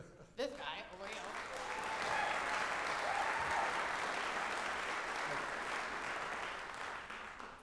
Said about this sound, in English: We have a big round of applause for also Jim Whalen, this guy over here.